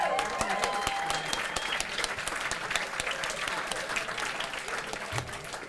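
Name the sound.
audience applause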